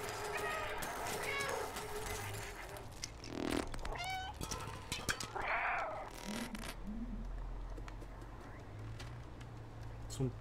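A cat meows repeatedly in the video game Stray, several short rising cries scattered over a busy background, with chirping birds and a person talking at times.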